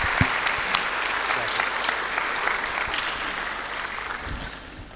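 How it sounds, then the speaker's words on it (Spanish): A congregation at a Pentecostal preaching debate applauds a speaker with dense, lively clapping that stays loud and continuous throughout. "un aplauso para el hermano"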